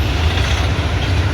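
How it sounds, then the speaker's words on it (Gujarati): A train pulls into Bandra Terminus, a loud, close, continuous rolling rumble of the wagons with no voices over it. "અને આવી ગઈ છે ટ્રેન."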